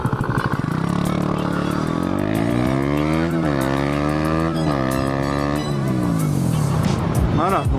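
A car accelerates hard during a hybrid race, its engine note climbing through repeated rising sweeps as gears change, loud and close, with brief talk at the start.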